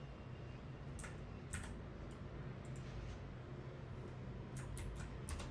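Keyboard typing on a MacOS computer during a live coding session, heard as faint, sparse key clicks in small clusters over a steady low hum and room noise.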